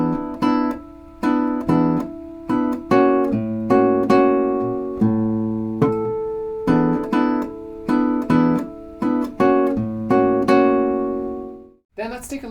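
Solo guitar chord melody in a jazz-samba style, played slowly on a clean tone: plucked chords and single notes ring out one after another in a relaxed rhythm, close and alone without talking.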